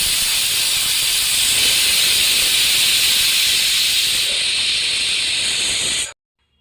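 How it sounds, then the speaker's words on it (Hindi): A pressure cooker cooking rice on a gas stove lets out one loud, continuous hissing steam whistle that stays steady for about six seconds and then cuts off abruptly. "कुकर में 1 सीटी आई, चावल बन गए हैं तो मैंने गैस बंद कर दी है"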